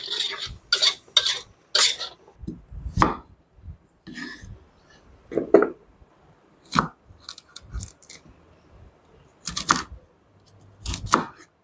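Goat meat is stirred with garlic and spices in a cooking pot for spiced goat soup, making intermittent scraping clinks and clatters separated by short quiet gaps.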